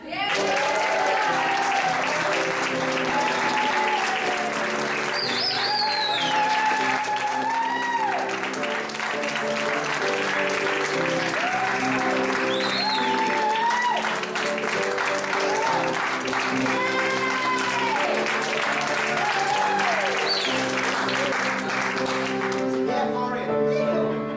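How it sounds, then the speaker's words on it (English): A graduation crowd at a fitness college ceremony claps and cheers under a loud voice and music, with whoops and yells rising over sustained dense applause. "please stay yelling and screaming and clapping and cheering for the fantastic Florian"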